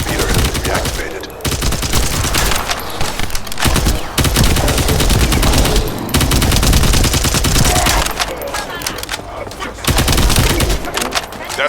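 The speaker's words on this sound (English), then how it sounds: "That stopped the gunfire." Loud, sustained gunfire from the video game The First Descendant, dense bursts of automatic fire and repeated shots rolling almost continuously with brief gaps, heard alone without talk.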